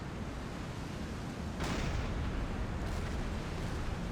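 In Silent Hunter 5, a submarine deck gun fires a loud, heavy boom over constant low rumbling noise, then a second fainter blast follows a moment later.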